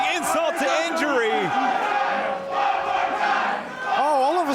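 A pro wrestling crowd at a Los Angeles arena roars and chants after a match ends, sustained and loud, with a commentator's voice threading over the din throughout.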